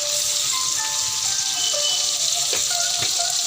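Tandoori prawns simmering in a red sauce, a steady bubbling sizzle with soft scraping as the pan is stirred, close and continuous, no talking.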